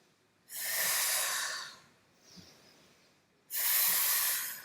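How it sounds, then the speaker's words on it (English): Deep, audible breaths during a yoga and Pilates stretching session: two long, loud hissing exhalations through the nose or mouth bracket a softer, shorter breath between them, close up with no talking. "Good, keep breathing."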